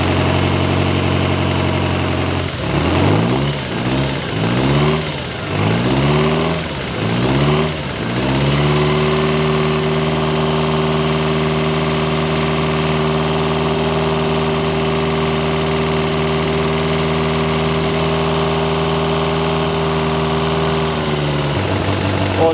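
A Ferrari 308 engine, freshly reinstalled during a restoration, runs close and loud as it warms up, with several rising and falling revs before settling into a steady high, even drone that cuts off near the end.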